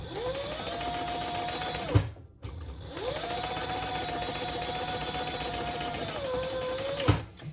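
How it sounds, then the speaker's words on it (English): A sewing machine bastes a zipper flat on a crossbody bag, running in two steady whirring stretches with a short pause between them, close and alone. "now I am going to baste my zipper flat"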